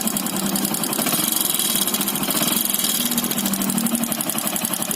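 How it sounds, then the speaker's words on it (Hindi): A motorbike engine with a loose piston in its block runs close and steady, a rapid ticking knock riding over the mid-pitched idle for the whole stretch, with no talk. "पिस्टन का आवाज़ आ रहा है। अब पिस्टन ब्लॉक में ढीली हो गई है, इसलिए वो आवाज़ कर रही है।"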